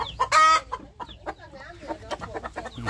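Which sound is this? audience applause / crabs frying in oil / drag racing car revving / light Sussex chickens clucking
light Sussex chickens clucking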